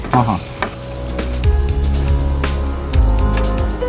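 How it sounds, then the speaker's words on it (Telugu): Red chillies crackle and sizzle in hot oil during a tempering for a mango pickle, a loud, close, continuous fry with spitting pops and a low bubbling undertone, no talk. "చిట్టి మిర్చి, ఇది ఎర్ర మిరపకాయలు వేస్తున్నాను."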